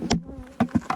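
Honeybees buzz around an opened hive during a colony merge, a few short buzzy bursts as individual bees fly close past, the rest quiet.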